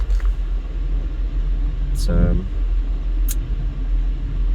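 Cars pass along a town street in East Las Vegas, a steady low rumble of traffic with one vehicle swelling by midway, while someone talks over it.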